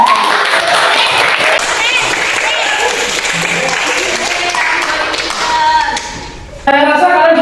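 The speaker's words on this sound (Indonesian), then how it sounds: "Tepuk tangan dulu Pak." A classroom full of people applauds loudly and continuously during a micro-teaching session, the clapping fading briefly before voices break in near the end.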